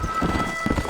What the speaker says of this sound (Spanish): Miren, un caballo salvaje corriendo por ahí.